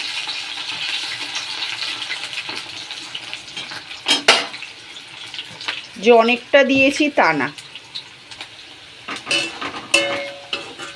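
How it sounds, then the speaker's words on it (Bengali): Cauliflower and onion fry in hot oil in a pan for a simple home-cooked lunch, a soft steady sizzle with occasional spoon scrapes and clinks against the pan, while someone talks over it. "এখানে কফিটা ভাজা ভাজা হচ্ছে, এখানে পেঁয়াজ ভাজা হয়ে গেছে।"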